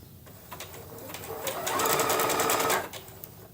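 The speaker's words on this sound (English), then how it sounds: "I'm going to stitch one more time so that the needle's on the left-hand side" A Bernette Chicago sewing machine stitching appliqué on fabric, its rapid needle chatter building to a loud steady run before stopping, close by.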